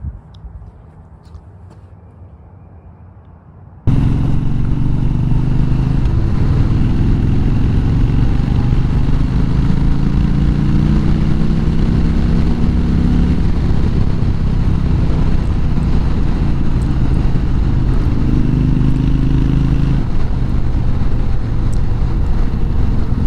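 A Harley-Davidson Sportster on the move, its steady engine drone and rushing wind roar loud and constant after a quiet start, with a few shifts in engine pitch.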